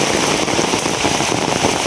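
Heavy rain pours down outdoors, a dense, loud, unbroken patter of drops on surfaces that fills the whole scene with a constant rush.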